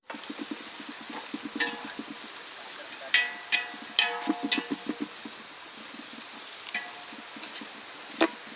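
Onions fry in a pan for village-style chicken biryani, a soft steady sizzle broken by sharp scrapes and clinks of a spoon stirring at irregular intervals, heard close up.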